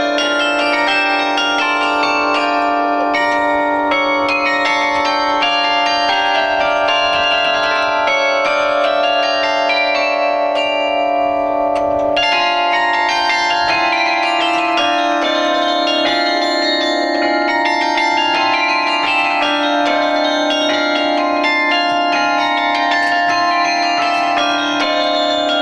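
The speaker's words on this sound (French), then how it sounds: "on sonnait les cloches et on jouait du carillon" Carillon bells ring out a continuous melodic tune, layered chimes overlapping and sustaining with a rich ringing shimmer for the whole stretch, loud and steady with no voices.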